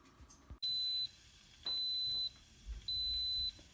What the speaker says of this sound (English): Those beeps tell us that it is done cooking